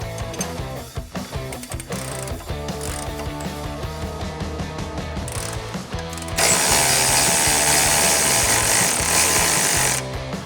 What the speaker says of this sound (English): I broke it loose first with a regular hand ratchet